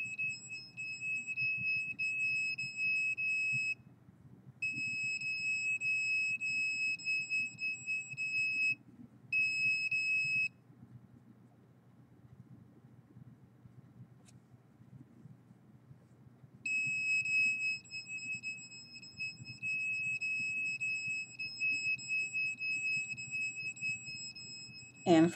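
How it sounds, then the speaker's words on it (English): An RF signal detector alarm shrills at microwave signals in steady high-pitched beeping, cutting out briefly twice and falling silent for several seconds before resuming, over a low background rumble. "The alarm was hardly going off, and now it's almost constant."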